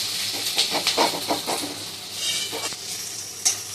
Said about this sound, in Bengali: পেঁয়াজটা লাল লাল করে ভাজা হবে। এখনো ব্রাউন কালারটা আসেনি, একটু নাড়াচাড়া করছে।